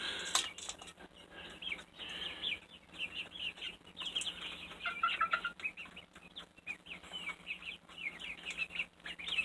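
Backyard flock of chickens, including a young white Araucana and at least one rooster, clucking and chattering continuously at a moderate distance, overlapping calls in an irregular rhythm with no talking.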